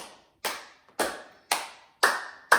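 Sharp hand claps during a hand yoga routine, five crisp strokes at a steady pace about half a second apart, close and clear with a short ringing tail after each.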